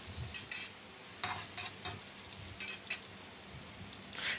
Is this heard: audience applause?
no